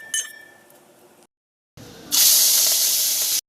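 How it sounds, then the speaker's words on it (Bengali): Prawns rubbed with salt and turmeric go into hot oil in a wok. A light clink and fading hiss are followed by a brief silence, then a loud, sharp hiss lasting just over a second. "এদিকে চিংড়ি মাছ ভাজছি"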